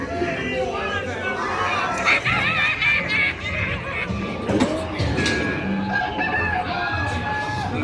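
Chickens cluck and squawk amid a busy animatronic pirate scene on the Pirates of the Caribbean ride, mixed with a horse whinny, crowd chatter and overlapping character voices.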